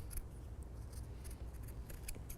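Scissors trim paper for a handmade gingerbread house holiday card holder, giving a few light, quick snips spread across a quiet moment with no talking.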